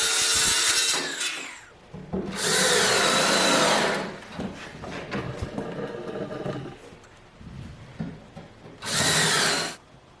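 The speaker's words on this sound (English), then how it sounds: "I'm putting screws in about every 6 inches, really to make sure this thing's down solid" A power drill drives screws into the plywood top of a six-foot workbench, with two loud whirring bursts of a few seconds each separated by quieter handling clatter and knocks.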